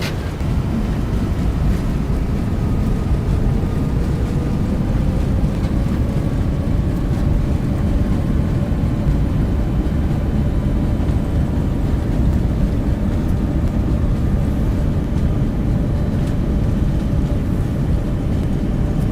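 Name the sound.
Boeing 747-8F landing and braking in X-Plane 12 video game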